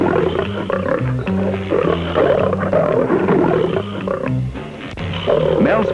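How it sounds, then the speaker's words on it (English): A tiger roars and growls close up, with repeated deep rumbling roars in uneven bursts and no talk over them. "Mel's favorite cat was a tiger named Satan."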